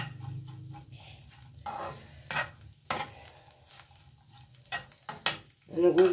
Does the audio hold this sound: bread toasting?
yes